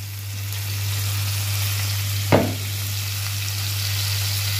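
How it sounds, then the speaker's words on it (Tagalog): Onion sautés with soy sauce and oyster sauce, giving a steady frying sizzle over a low electrical hum. One sharp scrape or stir stands out partway through. Nearby, with no talking. "Ginisa na natin"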